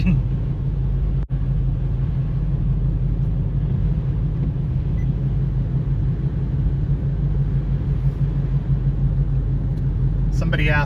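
Car driving on slippery, poorly plowed snowy roads during a snowstorm, a steady loud low rumble of engine and tyres heard from inside the cabin, with a voice talking over it.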